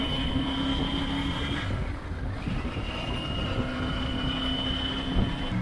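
A Triumph Tiger 900 GT Pro triple-cylinder motorcycle engine drones steadily with a smooth, even, almost electric hum and whine, wind rushing over it throughout, no voices.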